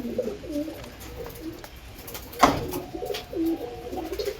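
Domestic pigeons coo softly in a loft where birds sit on eggs, low murmuring calls repeating through the clip with one brief sharper knock near the middle.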